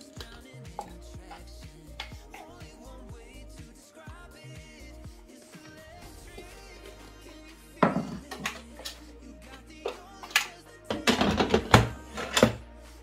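Lid of a Von electric pressure cooker being closed and locked over beans, with clunks and knocks building to a cluster of sharp clicks and clatter near the end, close by and fairly loud.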